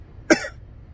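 A single sharp cough, loud and close, bursting out alone against a quiet background and fading quickly.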